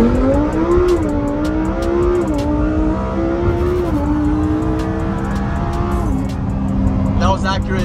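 Engines of a Lamborghini Huracan STO and a 1000 hp Mustang Shelby GT500 in a second dig-style drag race roar loudly, with revs climbing and dropping through repeated gear shifts and a brief tire squeal; people talk over the noise.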